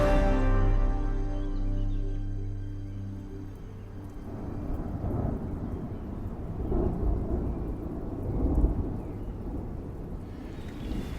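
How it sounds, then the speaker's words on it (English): Thunder rolling through the Ardeche valley in wild France, a long deep rumble that fades before rain and storm noise swell again, with a fresh grumble returning near the end. "Listen to that thunder"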